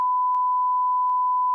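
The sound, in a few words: censor beep over a phone number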